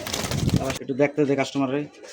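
Soft, repeated coos from a red checker pigeon rise and fall close by, a few throaty phrases following a brief burst of talking.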